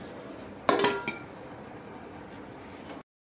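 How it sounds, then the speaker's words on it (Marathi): A lid set over a pan of cluster bean (gavar) vegetable cooking on the stove gives a short metallic clatter and clink, one brief burst followed by a faint lighter tap against quiet kitchen background. "भाजी शिजण्यासाठी झाकून ठेवूया"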